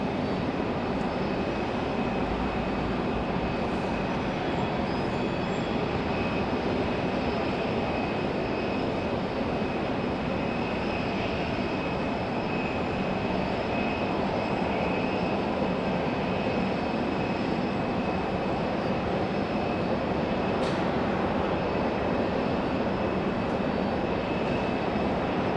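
Embraer E175 jet airliner from Boston at rainy Raleigh Durham airport, a steady broadband engine roar holding at even loudness throughout with a faint high whine, no voices.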